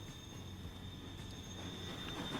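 A train moving in the Transport Fever 2 video game gives a low, steady rumble with a faint high metallic whine over it, with no talking.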